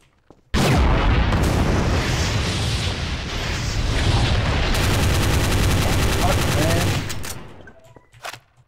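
Rapid sustained gunfire in the game Trouble in Terrorist Town, a loud dense burst of shots and booms running unbroken for about six seconds before cutting off abruptly.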